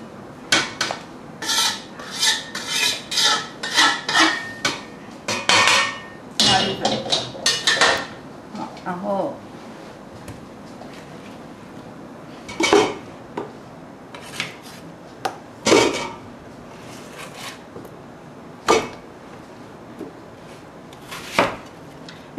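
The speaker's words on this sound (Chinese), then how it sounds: "因为它这个可以煮得很烂，所以我们这些都没有关系，给它切大块一点。" Beef shank is cut into large pieces in a kitchen, with a quick run of close knife chops and clatter on a board at first, then sparser single knocks and cuts spread out with quieter gaps.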